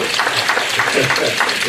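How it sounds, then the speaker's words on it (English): Audience applause at a scientific section meeting, a dense steady wash of clapping filling a hall, loud and continuous throughout. "Round of applause for each, please."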